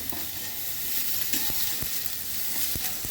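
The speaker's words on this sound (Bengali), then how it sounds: "ধনে গুঁড়ো, জিরে গুঁড়ো দিচ্ছি। মশলা একটু ভেজে নিচ্ছি।" Chili, coriander and cumin powder frying in a pan, a steady close sizzle with several short scraping clicks of stirring, no voices over it.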